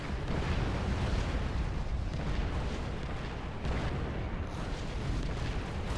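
Siege tanks firing in StarCraft II, a dense continuous barrage of booming artillery blasts and explosions overlapping one another, loud and unbroken throughout.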